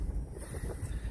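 Brief roar of wind buffeting the microphone inside an open Mercedes E220 convertible with the roof down, a dense low rumble with airy hiss, no voices.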